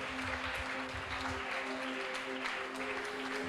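A church congregation claps hands together in praise during a Tamil worship service, a dense continuous applause that fills the room, with a sustained musical tone underneath.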